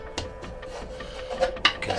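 Pencil drawing lines across wood while marking up a simple box frame, a series of short dry scratching strokes, close and fairly quiet, ending in a couple of firmer scrapes.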